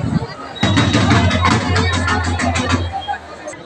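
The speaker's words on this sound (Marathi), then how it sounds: "लागलेली आहे गर्दी दर्शनाची" A crowd of devotees queued for darshan at Shikhar Shingnapur temple, a loud close babble of many voices that rises abruptly and holds, with a speaker talking over it.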